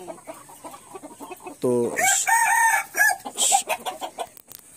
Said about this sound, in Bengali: আজকে আমি আপনাদেরকে নিয়ে আসলাম সোহাগ ভাইয়ের মুরগিগুলো বা কবুতরগুলো আপনাদের দেখানোর জন্য।